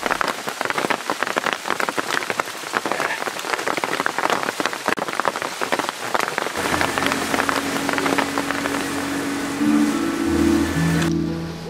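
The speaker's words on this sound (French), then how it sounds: "Pour le retour, une pluie de fin de mousson nous accompagne." Heavy late-monsoon rain pours steadily in the Ethiopian highlands, a dense, continuous hiss. Partway through, a low droning hum and some tonal sounds join the downpour.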